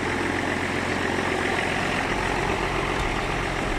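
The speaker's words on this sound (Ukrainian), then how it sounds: "Трактор без питань завівся." A John Deere 6900 tractor engine idles loudly and steadily, a continuous low rumble with no pauses or changes in pace.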